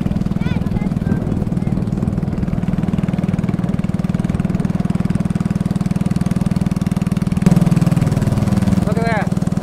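A motorized canoe's engine drones steadily on a river, a loud continuous low hum that runs the whole time, with faint voices now and then and a brief rise in intensity near the end.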